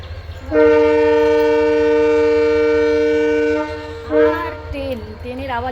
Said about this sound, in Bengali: তোমাদের সাথে কথা বলা মানে যখনই আমি কথা বলতে যাই তখনই ট্রেনে ট্রেনের আওয়াজ জানো